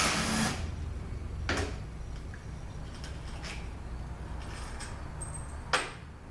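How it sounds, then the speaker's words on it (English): Bolts come out of the sub harness on a ZF8HP75 transmission valve body during an overhaul: scattered metallic clicks and tool taps, with a louder clatter at the start and a sharp knock near the end, steady quiet noise between. "now I'm going to take a couple of bolts out that are holding this sub harness down"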